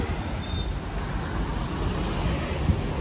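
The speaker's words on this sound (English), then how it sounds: "Motorcycles ripping by me." Street traffic rumbles in Phnom Penh as motorcycles pass close by on the road, a steady loud engine drone and roar without distinct breaks.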